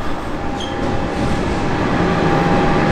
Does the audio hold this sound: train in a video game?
yes